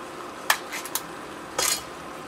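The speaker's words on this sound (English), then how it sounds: "I'm going to give everything a stir" A spoon clinks a few times against a pot while canned diced tomatoes with green chilies and okra are stirred, quiet scattered taps followed by a brief scraping swirl.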